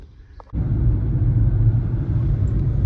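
A car's cabin fills with a steady low road rumble that starts abruptly and holds at an even, loud level throughout, with no talk, while driving between destinations in Oman.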